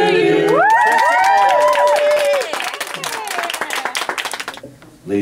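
A crowd at a radio station's anniversary show cheers and whoops after a sung birthday chorus, then breaks into a burst of clapping that fades out over a few seconds.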